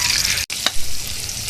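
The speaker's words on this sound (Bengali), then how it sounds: "আমরা এখন তেলের উপরে সব মশলাগুলো দিয়ে দেব।" Turmeric and chili powder hitting hot oil for jackfruit curry, a close hissing sizzle broken by a brief drop-out, then a scraping stir as the frying resumes steadily.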